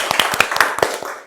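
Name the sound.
audience clapping hands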